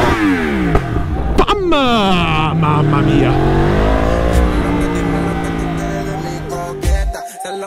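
Yamaha R1 motorcycle revving hard, the engine pitch sweeping up and down through several sharp throttle blips, loud and close, with a brief exclamation from a person partway through.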